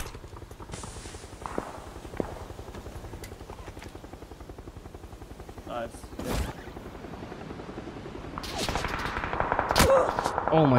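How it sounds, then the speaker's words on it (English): A helicopter approaching in the video game PUBG, with a steady rhythmic rotor chop throughout that grows louder toward the end, punctuated by a few sharp gunshot-like bangs, with voices talking faintly in the background. "Oh, there's a chopper coming."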